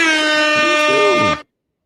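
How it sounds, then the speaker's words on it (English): A single loud, blaring air horn blast holds steady for over a second, then cuts off abruptly into silence. "Can I give out some air horns?"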